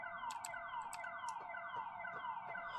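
A repeating siren wail in a Siren Head horror game cycles steadily, falling tones looping with high chirps on each cycle, loud and continuous with no talking.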